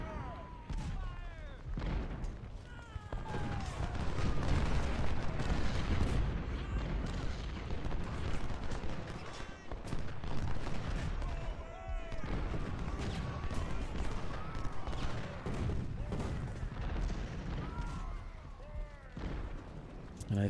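Artillery fire in the Civil War strategy game Ultimate General: Civil War, a dense, continuous barrage of booming cannon shots and crackling gunfire rolling on steadily with no voice.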